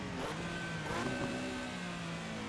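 A Porsche Carrera engine in the Assetto Corsa racing sim at Silverstone, a steady, droning mid-pitched tone that rises slightly in pitch as the car accelerates. It plays on its own with no talking.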